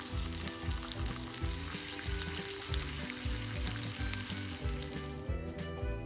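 A gyro meat mixture fries in a pan, giving a close, continuous crackling sizzle that stays even and loud throughout, with no voices.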